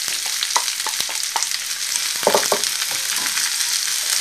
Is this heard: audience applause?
no